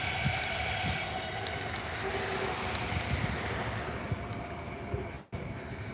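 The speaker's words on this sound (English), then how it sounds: "there's a train." A train rolls past near Vancouver airport, with a steady loud rumble and faint rhythmic clacking of the wheels, and a voice briefly speaking over it.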